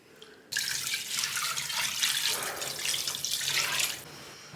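Tap water gushes steadily into a sink while food is rinsed in a Ghanaian home kitchen, a loud continuous splash that starts abruptly and runs for several seconds before easing off.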